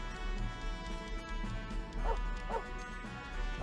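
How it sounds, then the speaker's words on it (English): A dog in the video game Star Ocean First Departure R gives a few short yips and barks over steady background game music, fairly quiet and spaced out. "I'm secretly keeping a dog in my room"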